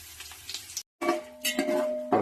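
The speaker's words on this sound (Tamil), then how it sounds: "மசாலா சேர்த்துக்கலாம். நல்லா பொன்னிறமாகட்டும்." Masala dropped into hot oil in a pan for mutton biryani gives a sizzling fry, broken by a brief silent gap, with light clinks of a metal utensil against the pan; no one talks.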